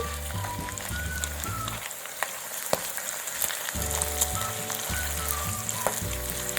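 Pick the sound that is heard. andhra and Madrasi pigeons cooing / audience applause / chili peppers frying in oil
chili peppers frying in oil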